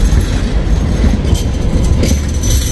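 A passing train in Sydney rumbles loudly and close throughout, with continuous wheel and carriage noise and a few faint high squeals from the wheels.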